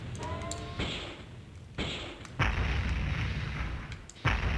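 Linear cannon fire in the video game Space Griffon VF-9 comes as several heavy, booming bursts over a dense, steady game background, each onset abrupt and loud.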